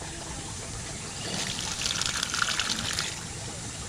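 Water drains through an opened valve from a piranha tank in a greenhouse, a steady trickling gush that swells in the middle and runs alone with no talk.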